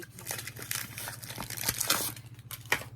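An 18-inch black polyester zipper being handled, giving close, irregular crinkling and rustling with a few sharper ticks over a low steady hum, with no speech.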